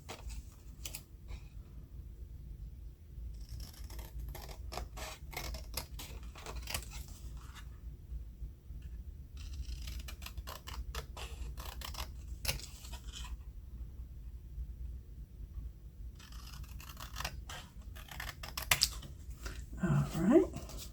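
Scissors snip out paper pieces for a Bible journaling setup, with quiet bursts of short crisp cuts separated by pauses and a faint voice near the end.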